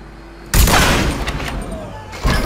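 Rifle gunfire in Mafia III: a sudden loud report followed by a rattling volley that slowly fades, then another sharp shot near the end, close and forceful.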